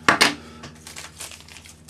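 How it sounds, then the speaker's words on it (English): A small plastic bag crinkles as jump rings are stored in it, two sharp close rustles at the start followed by softer intermittent crinkling. "I put them in a little plastic bag"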